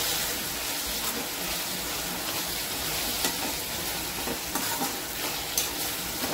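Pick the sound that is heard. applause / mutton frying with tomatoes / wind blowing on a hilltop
mutton frying with tomatoes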